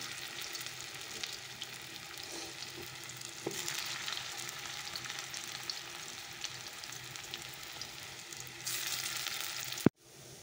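Bora fritters frying in oil give off a continuous soft sizzle with a faint crackle, steady and fairly quiet, ending with a brief knock.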